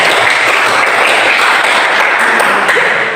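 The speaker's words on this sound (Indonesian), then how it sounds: "Berikan aplaus untuk" A classroom of students gives steady, dense applause, with loud continuous clapping throughout and no break.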